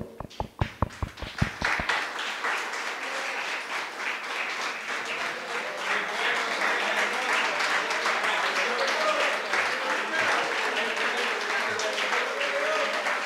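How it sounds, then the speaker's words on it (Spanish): A church congregation applauding during a sermon: a few loud, evenly spaced single claps at first, then swelling into sustained, full-room clapping for over ten seconds with faint voices beneath. "démosle un aplauso al Señor"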